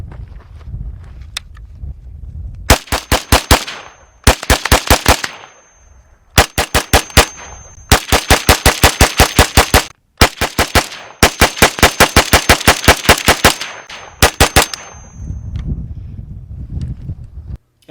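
An FN PS90 5.7x28 bullpup rifle fires outdoors in rapid strings of sharp, loud shots, several separate bursts with short pauses between them and quiet gaps at the start and end.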